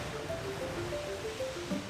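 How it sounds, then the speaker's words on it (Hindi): Sea waves at Mumbai wash in a steady, continuous surf roar, close and fairly even in loudness, with no voices. "मुंबई का समुद्र।"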